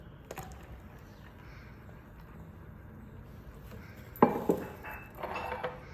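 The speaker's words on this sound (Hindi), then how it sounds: "अब मैं इसको मसाला डालकर मिक्स कर रही हूँ" A spoon stirs masala into a glass of homemade juice. A few bright clinks of metal on glass ring out near the end, over a quiet room.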